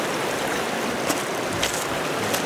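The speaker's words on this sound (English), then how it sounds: "I love walking along these little streams" A small woodland stream flows with a steady, close rushing and trickling. Faint splashes and burbles rise above the continuous wash.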